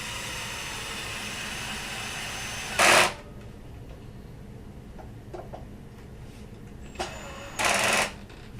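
An electric screwdriver driving screws into a guitar kit body, with two short loud whirring bursts as the clutch engages, separated by quieter handling clicks and a low steady background hum.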